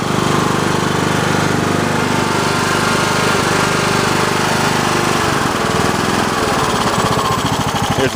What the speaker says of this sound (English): There's low speed for the engine.